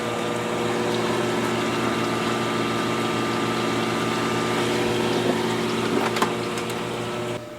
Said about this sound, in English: we plug in the filter water pump